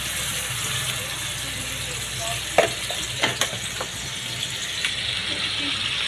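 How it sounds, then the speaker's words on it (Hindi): A paste of green chili, garlic and ginger sizzles steadily in hot frying oil, with a few sharp clinks of stirring near the middle and a voice faintly in the background. "हरी मिर्ची, लहसुन और अदरक का पेस्ट डाल देंगे"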